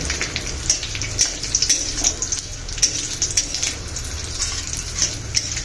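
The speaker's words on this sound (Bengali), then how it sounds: "কাজু কিশমিশগুলোকে তিরিশ থেকে চল্লিশ সেকেন্ডের মতো ভেজে নিন" Cashews and raisins frying with spices in a pan for basanti pulao give a loud, steady sizzle broken by quick crackles and stirring clicks.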